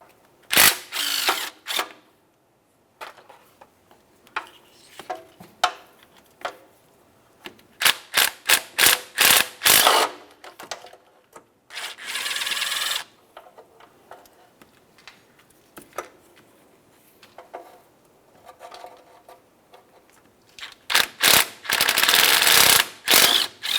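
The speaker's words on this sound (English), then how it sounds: "We'll be using our 13mm to remove each of these." A ratchet with a 13mm socket backs out oil pan bolts on a 1994-2002 Dodge Ram 2500, with quick rapid clicking bursts repeating at varied lengths, close and loud, separated by short pauses.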